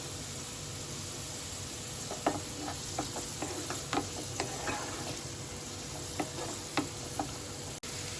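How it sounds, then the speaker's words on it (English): Chopped onions frying in hot oil over a medium flame, giving a steady soft sizzle with a series of sharp spatula taps and scrapes against the pan spaced every half second or so. "Now I'm going to add some chopped onions."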